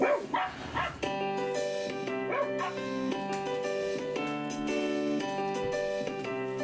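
Dogs bark and yelp over a sustained, whining, tonal backdrop, with a burst of louder barks at the start followed by steadier vocal sounds.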